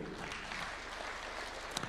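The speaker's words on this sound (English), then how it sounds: "Clap for him." An audience at a Kenyan State House ceremony honoring athletes applauds steadily, a dense, fairly faint wash of clapping from a crowd throughout the short stretch.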